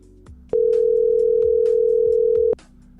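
A telephone dial tone sounds as one steady, loud, unbroken note for about two seconds, starting and stopping sharply over a low rumble.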